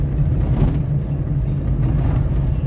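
Steady low rumble of a truck cruising on a road, fitted with a lawn mower fuel pump, heard from inside the cab as a constant drone with no talking.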